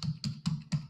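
Four quick, evenly spaced key taps on a computer keyboard, close up and distinct, with no talking.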